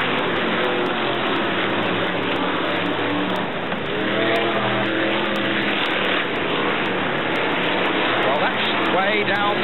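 BriSCA F1 stock cars race around the Brafield oval at a 1985 European championship, a loud continuous roar of several engines revving and passing, with a commentator talking over the noise.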